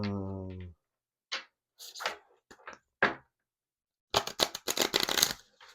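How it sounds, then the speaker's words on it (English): Tarot cards are shuffled, with a few soft scattered clicks and then a quick, dense riffling rattle near the end in a quiet room. "Let me shuffle them."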